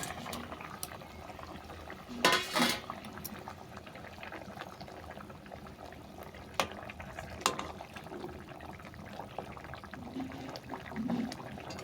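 Catla fish curry with elephant foot yam simmers in a pot, with a soft, low bubbling throughout and a brief louder splashy burst early on, plus a few light clinks; no voices.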